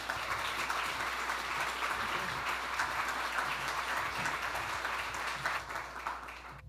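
A large audience applauds steadily for a presenter named Janet at a conference event, dense continuous clapping that holds at an even level before tapering off at the end.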